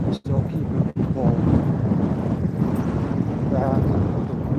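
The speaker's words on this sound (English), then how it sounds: "it's very windy out today" Strong wind buffets a microphone outdoors at a police scene outside a middle school in Plymouth, a constant low rumbling roar with brief dropouts, while a person talks over it.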